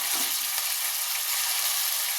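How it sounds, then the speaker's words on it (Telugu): Onion pieces and curry leaves frying in hot oil in a pan, a steady close hiss and sizzle running unbroken throughout with no talk. "ఇది కొంచెం ఫ్రై చేద్దాం."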